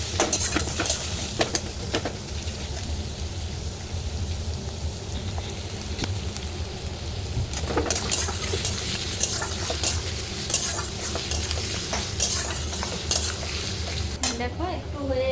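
Carrot and onion stir-frying in a pan, with a steady close sizzle and repeated scraping and clinking of a spatula against the metal throughout, plus a faint voice at times.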